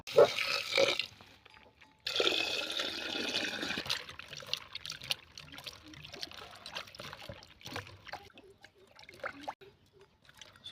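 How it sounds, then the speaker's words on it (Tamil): Bitter gourds, over a kilo of them, being washed by hand in water in a home kitchen, with splashing, trickling and sloshing that comes in irregular bursts, a pause near two seconds, then steady rinsing noise close by. "சுத்தமாக முதல்ல காயை கழுவி எடுத்துக்கலாம்"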